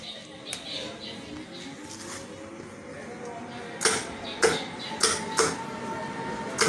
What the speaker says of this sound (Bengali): মেশিনটা স্টার্ট করে দেখাই।